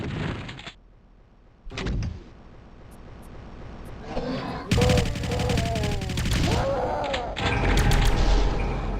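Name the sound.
gunfire in the Doom mod Dead Sea Scrolls, a video game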